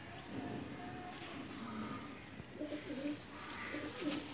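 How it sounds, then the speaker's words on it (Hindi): A Pakistani long-flying pigeon coos in soft, low repeated calls close by, mixed with other birds and faint background noise. "ये बहुत ही लंबी परवाज़ों वाला कबूतर है"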